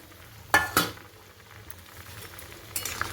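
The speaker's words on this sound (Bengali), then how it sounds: "ঝোলটা ফুটে গেছে এখন ভাজা পনিরগুলো দিয়ে দিলাম" Fried paneer pieces drop into a boiling curry gravy in a pot, two sharp splashing sizzles near the start, then a soft steady bubbling with a faint later stir.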